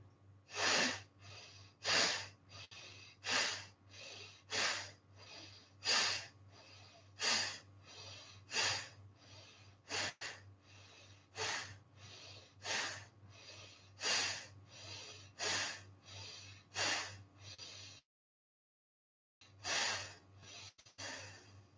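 Yoga pranayama breathing: with the left nostril plugged, a person forces about fifteen quick, steady exhalations out through the right nostril, each a close, breathy puff, followed by a short silence and a few more.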